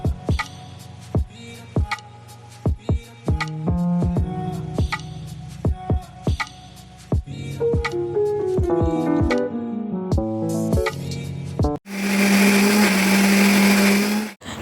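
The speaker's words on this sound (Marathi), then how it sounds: "छान मिक्सरमध्ये लावून छान बारीक करून घेतलेली आहे आणि पेस्ट तयार करून घेतलेली आहे" Kitchen mixer grinding garlic, onion and coriander into a paste, first heard as a run of short sharp pulses with music playing, then a loud steady whirring grind near the end.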